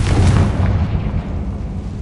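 A Confringo blasting spell explodes in Hogwarts Legacy, a loud, deep booming blast that rumbles heavily at the start and then decays into a sustained low roar over two seconds.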